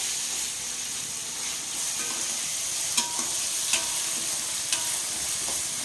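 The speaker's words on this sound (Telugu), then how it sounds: "వెంటనే అల్లం వెల్లిపాయ పేస్ట్ వేసుకుంటే చక్కగా పచ్చివాసన దాకా వేయించుకోవాలన్నమాట" Ginger garlic paste fries with onions in hot oil for a carrot coconut fry, a continuous close sizzle broken by three or four sharp clicks of a spoon against the pan.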